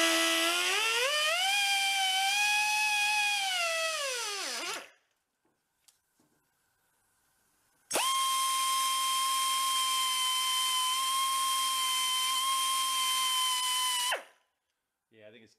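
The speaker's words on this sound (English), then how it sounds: "see if a Dremel can get in there" A Dremel rotary tool grinds rusty metal on a 1974 Honda ST90 motorcycle, a loud high whine sweeping down in pitch over about five seconds, then after a pause a second steady grinding whine lasting six seconds.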